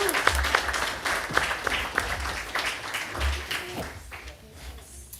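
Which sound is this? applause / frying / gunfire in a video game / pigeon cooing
applause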